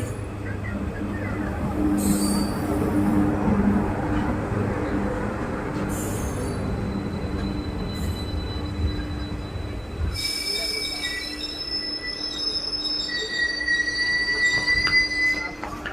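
The Kannur–Alappuzha Executive Express, a passenger train, rolls into Ernakulam Junction station with loud, high-pitched wheel squeals and screeching brakes over a steady rumble of rail cars, close by.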